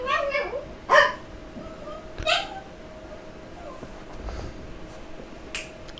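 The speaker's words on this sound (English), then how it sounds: "Sorry, my dog's barking." A dog barks a few times in the background, short sharp bursts spread across the clip, with faint room noise between them.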